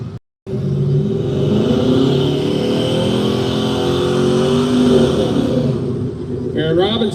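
An S550 Mustang and a Silverado drag racing at an arm-drop event. Their engines run in a steady, loud roar with rising revs near the end, and an announcer talks over the noise.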